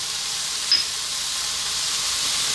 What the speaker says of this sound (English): we've got 2 teaspoons chili, 2 teaspoons turmeric. In that goes.